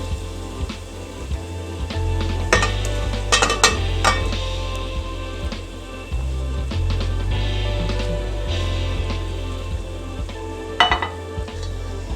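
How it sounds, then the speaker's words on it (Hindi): Beef koftas added to fried masala in a pot and stirred, with a steady sizzle of frying and scraping, clinking spoon strokes against the pan throughout, loud and close, no voices. "ये मसाला भून चुका है। अब हम इसमें कोफ्ते ऐड करने लगे हैं।"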